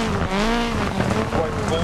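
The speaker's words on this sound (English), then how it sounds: "Even when you let off on this car, it sounds amazing." A rally car's engine in the Dirt Rally video game burbles and drops in pitch as the driver lifts off the throttle on a Welsh stage, loud and close for about two seconds.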